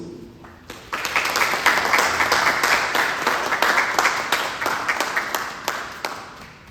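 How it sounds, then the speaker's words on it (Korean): A Sunday congregation at a Dallas Korean church claps to welcome the pastor to the pulpit. After a brief quiet start, the hand-clapping swells into a full round with a noticeably rhythmic pulse. "다 같이 박수로"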